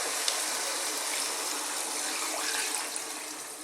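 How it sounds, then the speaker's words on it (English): Cold water runs steadily from a tap into a soup pot for a vegan potato and onion soup, a continuous hissing gush with no voices over it. "let's get some cold water"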